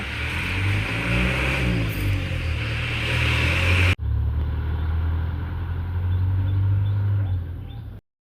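A school bus engine droning close by as it pulls away, a steady low rumble with some revving, continuous for several seconds before cutting off abruptly.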